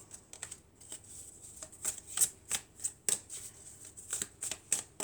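Tarot cards riffled and drawn in a rapid series of crisp, papery flicks and snaps, close and fairly quiet, with clusters of sharp slaps standing out above a soft background hiss.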